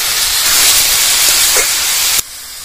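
Chopped vegetables with tomato, chilli and salt fry in a pan for vegetable soup, giving a loud, steady broadband sizzle that holds close and even, then cuts off abruptly near the end.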